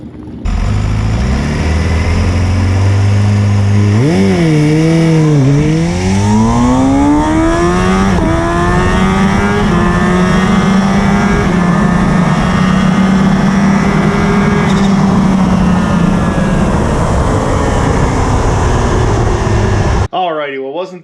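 Kawasaki Ninja H2 SX SE motorcycle racing hard on a cold track, its engine loud and close as it revs up and down through the gears with rising and falling pitch sweeps, continuous for about twenty seconds before cutting off.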